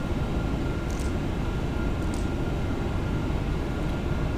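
Steady, even drone of MD-11 airliner engines in a flight simulator, a constant low broadband roar with no change in pitch or loudness, plus a few faint high clicks.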